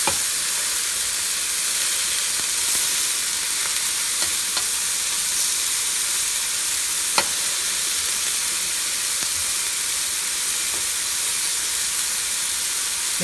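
Chicken koftas sizzle steadily in a hot pan, a dense continuous hiss with faint crackles and a couple of soft utensil taps, close and even throughout with no talking.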